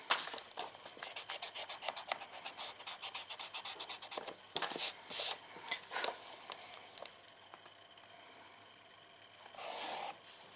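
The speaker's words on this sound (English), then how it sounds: "kind of rub some lines out and get it right" A pencil eraser rubs out lines on paper in quick, close, rapid rasping strokes for several seconds, then slower separate scrubs, a brief pause, and one last short rub.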